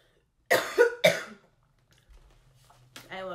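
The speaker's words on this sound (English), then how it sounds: "Be coughing while the song's on." A person getting over a cold coughs a few times, with two hard rough coughs close together, a quiet pause, then another cough and throat clearing while music plays softly underneath.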